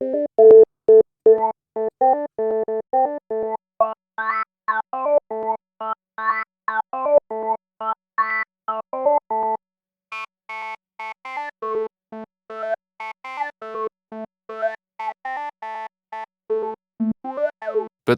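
A Behringer vintage synth plugin, an analog-clone instrument in Ableton, plays a staccato melodic sequence with its filter resonance turned up, giving clear, vowel-like formant sweeps on each note, with no talking.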